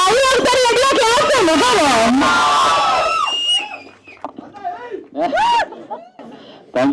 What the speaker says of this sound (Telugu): విజిల్స్ కానీ క్లాప్స్ కానీ మనం ఎక్స్పెక్ట్ చేయని విధంగా వేస్తున్నాం